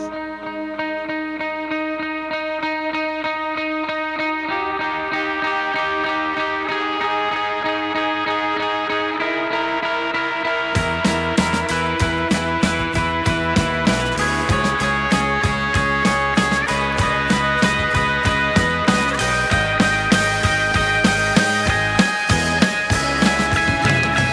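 Layered synthesizer notes with shifting, slightly unsynchronized chords, joined midway by a loud distorted guitar playing a steady rhythmic pattern, building tension.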